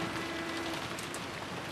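Steady rain drums against a window glass in Umineko, a dense even hiss of raindrops with a faint low hum underneath, continuous and close for under two seconds.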